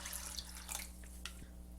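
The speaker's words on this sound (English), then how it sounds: "We're going to pour cold water over the beans." Cold water running from a tap over dry beans in a Dutch oven, a steady faucet rush with light splashing and dripping, close and moderately quiet against a low background hum.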